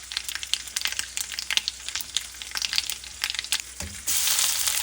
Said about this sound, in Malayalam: എണ്ണ ചൂടായി കഴിയുമ്പോൾ നമുക്ക് അര ടീസ്പൂൺ കടുകിട്ട് കൊടുക്കാം